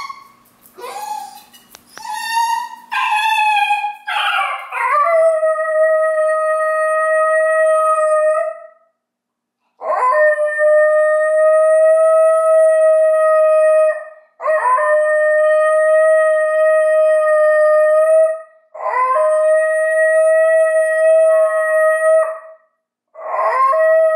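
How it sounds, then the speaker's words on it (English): A young 18-month-old Basenji dog gives a long, loud, close yodel or baroo, starting with rising yelps and then several sustained, tonal, wavering howls separated by short pauses, with no talking. "we're going to start to hear a little bit of a yodel or a baroo"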